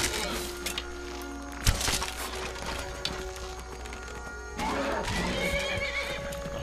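A horse in the game Skyrim whinnies loudly and close, its hooves clip-clopping, with the neigh breaking out again near the end over a steady game background.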